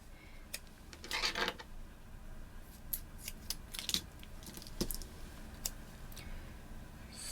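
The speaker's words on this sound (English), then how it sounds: "So I'm just trimming this square box down to fit." Scissors trimming a square paper box down to size, giving quiet, close snips and crisp clicks in an irregular rhythm with no talking.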